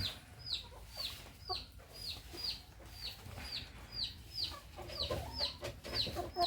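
Hens and a rooster, about four to five months old, cluck repeatedly in a steady, fairly close series of short calls against a quiet farmyard background.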